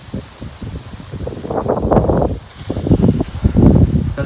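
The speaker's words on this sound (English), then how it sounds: "Sorry about the wind guys, I can't change it." Wind buffets a microphone outdoors in Australia, low, gusty rumbling that rises and falls in waves and grows stronger toward the end, with no voices.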